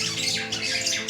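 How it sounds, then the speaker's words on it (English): Several birds squawk in harsh, repeated bursts, loud and close, with no voices. "What's up with the birds?"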